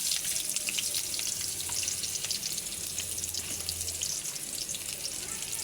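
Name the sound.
onions frying in oil with cumin in a wok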